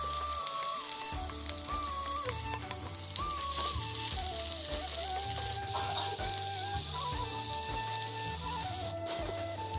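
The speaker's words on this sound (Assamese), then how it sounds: "পিঁয়াজকেইটা ধুনীয়াকৈ কাটি ল'ম, কাটি মেলি এনেকুৱা টাইপত আৰু ফ্ৰাই কৰি ল'ম।" Sliced onions fry in oil for biryani, a continuous, fairly loud sizzle running under music throughout.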